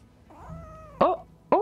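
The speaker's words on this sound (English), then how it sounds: "Oh, my cats are back, I think." Cats meowing in the video game Rise of the Ronin: a drawn-out, wavering meow followed by two sharper, louder meows in quick succession, close up and with no talking over them.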